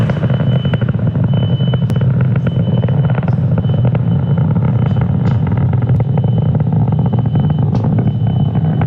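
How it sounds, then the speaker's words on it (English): A SpaceX Falcon 9 climbs after launch from Cape Canaveral with its nine Merlin 1D engines at full thrust, a loud, continuous, dense roar and rumble that holds steady throughout, with no voices. "So now we'll throttle those 9 M1D engines back up."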